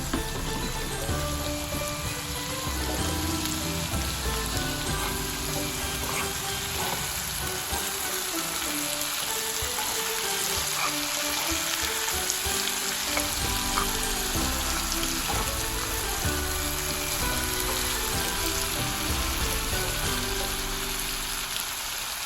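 Bell pepper, dill, cilantro and garlic sizzle in a pan for a mushroom salad, a continuous dense crackling fry with occasional stirring, close and loud throughout.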